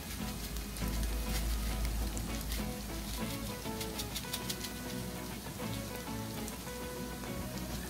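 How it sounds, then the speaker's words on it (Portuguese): An egg fries in a pan with a steady, dense crackling sizzle that is close and fairly loud, with no talking over it. "E vou deixar o meu ovo aqui agora fritar."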